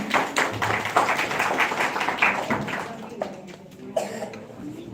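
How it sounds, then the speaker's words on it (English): An audience of parents at a kindergarten school event claps in a dense, lively burst that gradually thins out into scattered claps and a cough or two. "let's welcome our playgroup parents with a huge round of applause"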